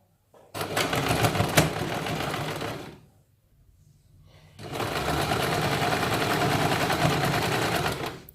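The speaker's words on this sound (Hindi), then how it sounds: "इसके ऊपर हम ये मशीन रखते हैं और यहाँ पे हमें ये सिलाई लगानी है।" A sewing machine stitches a kurta sleeve in two long, steady runs of fast mechanical whirring and clatter, close and loud, broken by a short pause of near silence in between.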